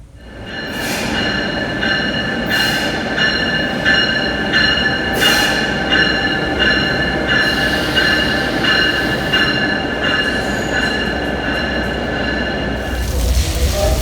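A train rolls through 30th Street Station in Philadelphia with loud, close wheel squeal and rhythmic clicking of the cars over rail joints, repeating for the whole passage.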